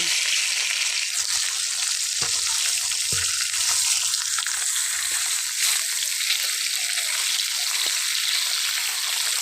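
Mrigal fish frying in hot oil in a home kitchen, a continuous bright sizzle with occasional sharp pops and crackles, steady and close throughout.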